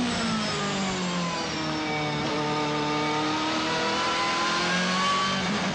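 A BMW M3 GTR race car warms up on the Nürburgring track, its engine droning loud and close with a rising, gear-shifting pitch that holds steady and revs on, with no talk.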